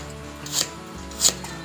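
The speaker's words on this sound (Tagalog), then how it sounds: "Ganyan lang po mga busing ang paghiwa ng luya natin." A knife chops through ginger on a cutting board with two crisp, distinct cuts about half a second apart, close and clear against a quiet kitchen background.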